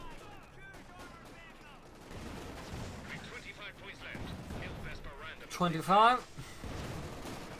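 Gunfire and artillery rumble through a Company of Heroes 2 battle between Wehrmacht and British forces, with machine gun bursts, distant explosions and a louder blast near the end, all running under continuous commentary.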